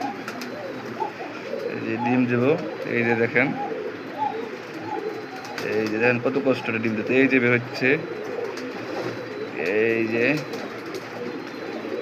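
Art Angel fancy pigeon on a pigeon farm coos in soft repeated bursts while straining to lay an egg, heard close up beneath a person talking over it.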